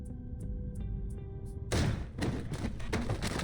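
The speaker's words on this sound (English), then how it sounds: "The door swings open with a loud bang, causing him to jump in surprise" A door bangs open in Reverse: 1999. Soft tonal music with light ticks plays, then a sudden loud bang hits, followed by several heavy thumps.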